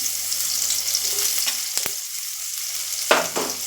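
Green garlic sizzles and fries in hot oil with asafoetida and cumin in a pan over low heat, a steady close hiss broken by a few sharp stirring clacks, with no talk.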